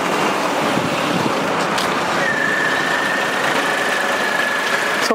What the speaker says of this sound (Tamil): ஸோ இது வந்து டிப்பிக்கலாக ஒரு 3 சிலிண்டர் இன்ஜின் தான் அப்படின்றதுனால ஒரு சின்ன ஒரு ரம்பிளோட தான் வந்து வண்டி ஸ்டார்ட் ஆகுது.